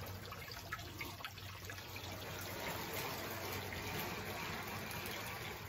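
Water and fertilizer being poured into a pool-noodle Kratky hydroponic container, a faint, steady trickle and splash that runs without a break for several seconds with no voices.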